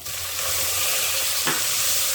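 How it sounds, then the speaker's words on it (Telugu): A tomato drops into a hot biryani tempering of golden-fried cashews, setting off a sudden louder sizzle burst over a steady, close frying hiss with faint stirring. "ఇప్పుడు మనము ఇందులో ఒక టమాటా వేసుకుందాం"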